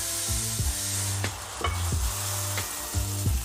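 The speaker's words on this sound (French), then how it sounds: "faire revenir les lardons dans une poêle bien chaude, sans matière grasse" Bacon lardons fry in a very hot dry pan for a quiche lorraine, a loud close sizzle with repeated scraping stirs every half second or so.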